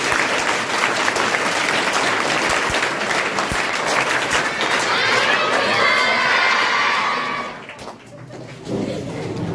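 A classroom of children bursts into loud clapping mixed with shouts and cheers, a dense, lively crowd sound that swells and then drops off abruptly near the end before a brief return.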